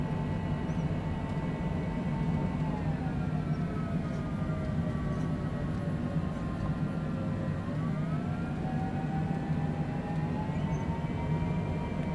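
A light aircraft starts its takeoff roll at Charleston, West Virginia in heavy rain, with a steady loud engine drone heard from inside the cabin and a tone that slides gradually as the aircraft speeds up.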